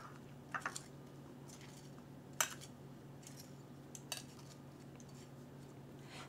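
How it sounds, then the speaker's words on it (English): Metal tongs toss a cucumber and onion salad dressed with rice vinegar in a bowl, giving faint scattered clicks and soft clatters with a few sharper taps over a low kitchen hum. "just toss it a little bit with your tongs"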